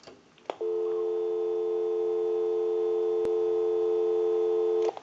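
Busy signal on a single-slot payphone handset: a steady, loud tone pulsing on and off in the classic busy cadence, heard alone for about four seconds with no talking.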